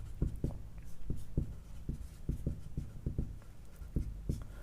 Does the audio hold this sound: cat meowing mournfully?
no